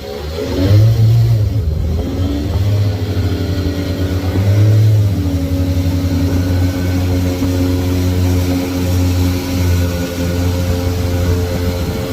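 A motorboat engine drones steadily and close, rising in pitch as it revs up, then holding a constant hum throughout with no voices.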